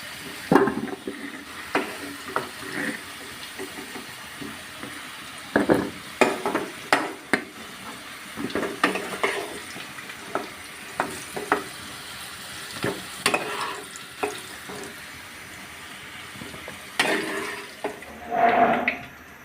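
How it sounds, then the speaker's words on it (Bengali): Potato and papaya pieces fry in oil for a chicken curry, with a low sizzle throughout and repeated bursts of scraping and clattering as a spatula stirs the pan up close. "আলু পেঁপে ভাজা শেষ, নিয়ে নেব।"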